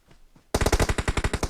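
Rapid automatic gunfire in PUBG Mobile bursts in after a quiet moment, a loud, close, steady stream of about a dozen evenly spaced shots.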